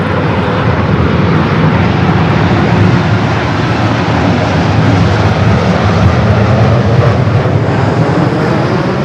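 An aircraft at Los Angeles LAX airport produces a loud, sustained engine roar that stays at a constant, close intensity from start to finish.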